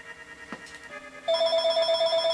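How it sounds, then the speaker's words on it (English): A telephone rings in a Legend of Zelda Four Swords Adventures game, a steady trilling electronic tone starting partway through and continuing evenly, loud and alone after a few soft game sounds. "Phone's ringing."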